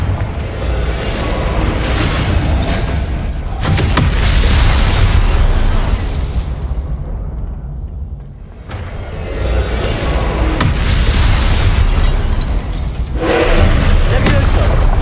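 Repeated Confringo fire-spell blasts in Hogwarts Legacy, a string of loud, booming bursts layered with crackling debris and game effects, with a brief lull midway before more explosions rumble on.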